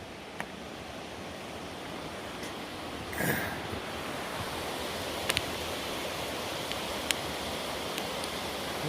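A creek flowing along a trail below an Appalachian Trail lookout: a steady, broadband rushing wash heard from a distance, constant throughout with a few faint ticks and no talking.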